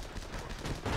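Tank cannon fire in the video game Armoured Battle Crew, heard as a dense, continuous blast of loud rumbling shots over about a second.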